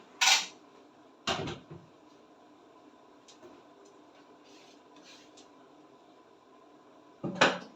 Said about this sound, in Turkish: Böyle kapatacağım kapağını.